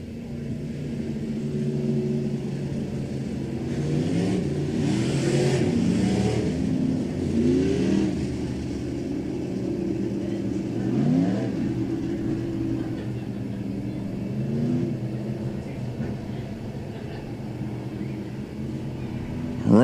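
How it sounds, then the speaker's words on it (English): A pack of six Limited Modified race cars revs and roars at a dirt speedway during a heat race, their engines rising and falling in overlapping waves, fairly distant and sustained throughout. "Heat race number 1 for the Double J Jerky Limited Modifieds."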